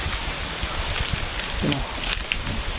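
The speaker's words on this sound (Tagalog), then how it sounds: "Umuulan pa." Rain falls outdoors in a large open area at night, making a steady broadband hiss with faint patter and a few soft rustles and bumps nearby.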